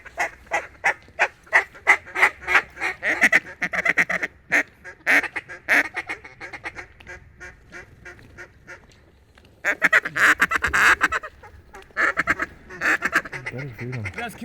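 Ducks called in by hunters at a willow-lined hole on the opening day of duck season, a run of loud, rhythmic quacks and honks in rapid bursts, pausing briefly before another insistent series of calls.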